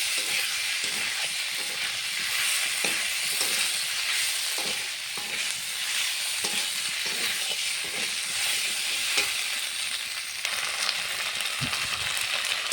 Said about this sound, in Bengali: এখন ভেজে রাখা আলুটা দিয়ে দেবো। মশলার সঙ্গে একটু কষাবো আলুটা।